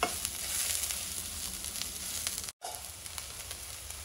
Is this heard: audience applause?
no